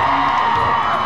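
A convention audience screams and cheers loudly and continuously, a dense crowd roar with whoops that fills the whole moment at an event crowd gathering.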